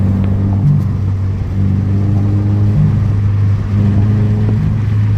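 A Toyota FRS / Subaru BRZ with a DIY intake mod rumbles close by, its engine droning low with a couple of brief rises in pitch as it is revved and let off.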